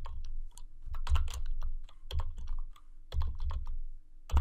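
Computer keyboard keys tapped in short bursts of several clicks, pausing between groups as shortcuts are entered, close and fairly quiet with no talking.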